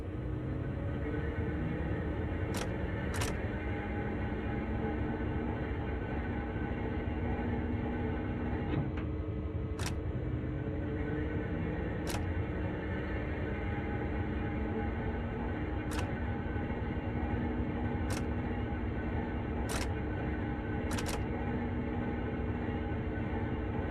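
A locomotive turntable rotating in the Train Sim World game, a steady rumbling mechanical drone with a low hum, punctuated by sharp periodic clicks or ticks every couple of seconds, with no talking.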